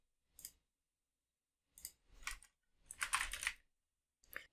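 Short bursts of typing on a computer keyboard while entering a file path into a Python script, separated by pauses, close and fairly quiet with no voices.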